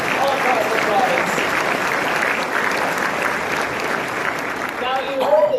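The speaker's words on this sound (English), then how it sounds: "join me in giving a huge round of applause for incredible UCP volunteers, staff, generous donors all across the province" A large dinner crowd at a political party's leader's dinner applauds party volunteers, a dense, loud, sustained clapping that holds steady throughout, with a few voices rising near the end.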